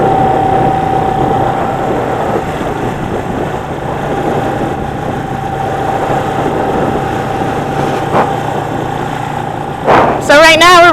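A cafe racer motorcycle engine runs steadily while riding on a road in New Jersey, a continuous low drone with a sustained tone that holds throughout and ends in a brief sharper burst.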